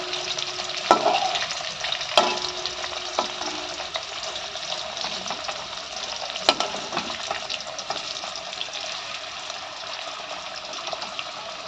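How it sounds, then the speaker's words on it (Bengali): Potato, teasel gourd and cauliflower fry together in a pan, giving a steady crackling sizzle with occasional sharp clinks and scrapes of a spatula stirring, close and continuous. "আলু, কাঁকরোল সব মিলিয়ে মিশিয়েই ভাজছি ওরকম"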